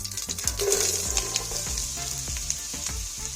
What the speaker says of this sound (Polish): Na rozgrzanej oliwie